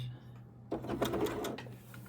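A sewing machine puts a few quick holding stitches into a quilt block, a short burst of mechanical whirring that starts after a quiet moment, close by and moderately loud over a low steady hum.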